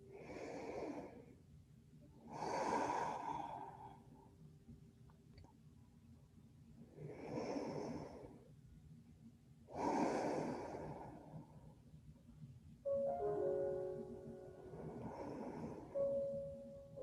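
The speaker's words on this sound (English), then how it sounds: "So take a couple of rounds of breath here." Slow, deep breaths in a yoga lesson, five or six long airy inhales and exhales spaced every two to three seconds, close and fairly soft, with quiet gaps between and a faint tonal hum near the end.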